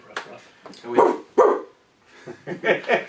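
Dog barking and yipping in short loud bursts near the listener, several barks over a few seconds with brief pauses between them.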